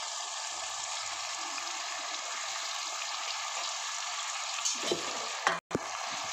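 Tomatoes sizzling in a pan with raw bananas, giving a steady, close frying hiss with soft stirring scrapes near the end and a brief sharp clatter, with no talking.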